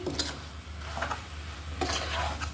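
Turmeric flowers and ginger flowers are sautéed in a pan, with a steady low sizzle and repeated scraping strokes of a spatula stirring against the pan, close and fairly quiet.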